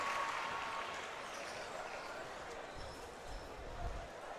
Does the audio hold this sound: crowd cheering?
yes